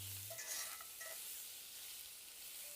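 Onions fry in oil in a cast iron pan over an open fire, giving a soft, steady sizzle with a few faint clinks near the start.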